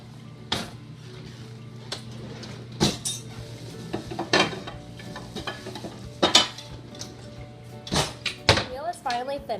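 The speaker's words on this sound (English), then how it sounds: "Next, prepare your water. It must be very warm and have enough soap to clean your dishes." Pans and dishes being washed in warm, soapy water in a home kitchen, with intermittent clanks, clatters and scraping of cookware at close range. A voice is briefly heard.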